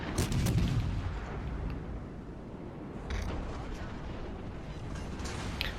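Naval turret guns booming in World of Warships Legends aboard the cruiser HMS Cheshire, a heavy burst of blasts at the start followed by rumbling battle noise and a second softer report about three seconds in.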